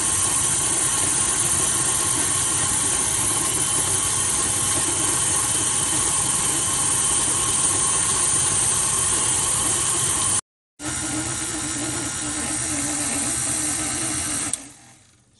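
Electric mixer whipping buttercream frosting on high speed, a steady loud motor whir running continuously with a brief cut near the end, no talking over it.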